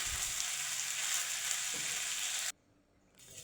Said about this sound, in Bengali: সেটা এখন বেশিক্ষণ ভাজবো না, ভাজলে ভেঙে যাবে। এই 1 মিনিট ভাজবো।